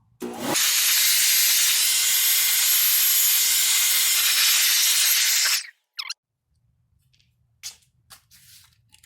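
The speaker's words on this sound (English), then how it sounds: "since I don't have the compressed air, this gardening blower is as good as anything" A gardening leaf blower blasts air to clear debris off the intake manifold of a 2010 BMW 328xi, a loud steady roar for about five seconds that cuts off abruptly, followed by faint clicks.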